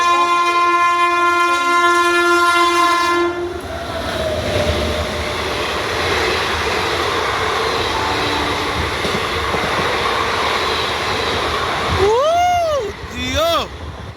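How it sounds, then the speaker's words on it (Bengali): Hate Bazare Express, the 13169 from Sealdah to Saharsa Junction, runs through platform 3 at Belgharia station. A loud, sustained horn opens, then a steady roar of wheels and carriages rushes past close by, and brief chirping sounds rise near the end. "আপ 13169 শিয়ালদা টু সারসা জংশন হাটে বাজার এক্সপ্রেস বেলঘরিয়া 3 নম্বর প্ল্যাটফর্ম থেকে পাস করবে।"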